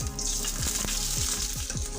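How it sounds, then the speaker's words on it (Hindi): Boiled potato pieces fry in hot oil over a high flame, giving a steady, loud sizzle with a bright hiss and a few soft low knocks of the pieces shifting in the pan. "अब मैं आलू को थोड़ी हल्की कलर चेंज होने तक फ्राई कर ले रही हूँ।"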